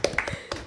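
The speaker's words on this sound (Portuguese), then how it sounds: "Opa, eu bati aqui no microfone." A few close, sharp knocks on a podcast microphone, quick thumps spaced unevenly over under a second, with no speech.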